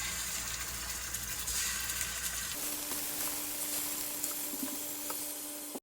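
Olive oil sizzles steadily in a hot pan for a pork stew, a close, continuous hiss that shifts to a softer fizz partway through, with no talking.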